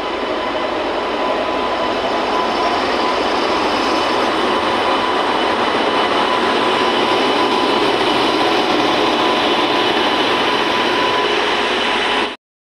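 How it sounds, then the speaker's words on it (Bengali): The Sambaleswari Express pulls into a station with a loud, continuous rumble and a rush of wheels on rail, close and steady, before cutting off abruptly at the end. "সমলেশ্বর এক্সপ্রেস এসে গেছে অলরেডি"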